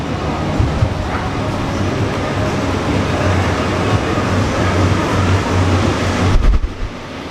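A Singapore MRT subway train carries passengers toward Raffles Place, its steady rumble and rolling rail noise running continuously throughout, with a faint voice now and then under the hum.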